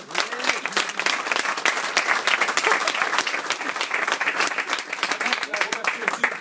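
Sustained applause for a thanked person, a crisp, dense patter of many hands clapping close by with an even rhythm throughout, voices murmuring underneath.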